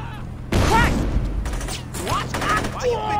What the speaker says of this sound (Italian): Boom, perfetto, altra macchina andata.